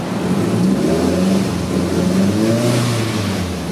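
A 1983 VW Rabbit GTI engine runs loud and steady on a Dynapack dyno, holding a close, continuous drone for the whole stretch without talk.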